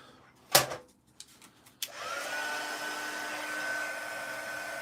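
After a few clicks and knocks, a hair dryer switches on and blows a steady, close whirring drone to dry stencil paint, running evenly to the end.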